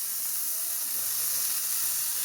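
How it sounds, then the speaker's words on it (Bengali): Oil and dried chilies frying in a pan for a Bangladeshi taki fish bharta, giving a steady, dense sizzling hiss that holds evenly throughout without a break. "প্রথমে তেল মরিচ ভেজে নিতে হবে তো তাই ভেজে নিচ্ছি"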